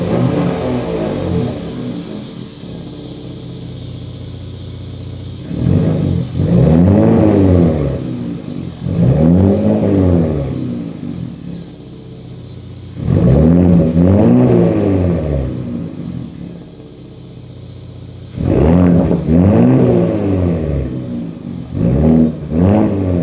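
A Ford Raptor pickup truck engine revs hard in three long bursts, rising and falling with gaps of steady idle rumble between them, loud and close, recorded from behind the truck.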